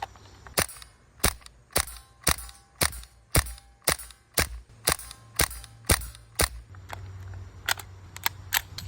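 A short KCO2 airsoft pistol fires a long string of sharp, snappy shots at an even pace, roughly two per second. The shots are close and punchy with brief pauses, followed by a few quicker, fainter pops near the end.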